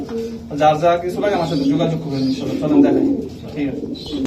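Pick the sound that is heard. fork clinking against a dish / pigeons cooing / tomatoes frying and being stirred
pigeons cooing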